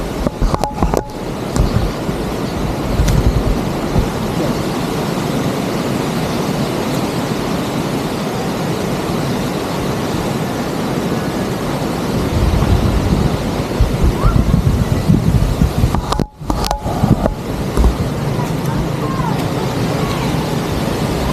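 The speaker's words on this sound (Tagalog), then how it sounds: "Malakas pa rin ang hangin hanggang sa ngayon." Strong, steady typhoon wind in Pangasinan, Philippines, roars and buffets the microphone for the whole stretch, with brief dropouts and gusty bursts near the end.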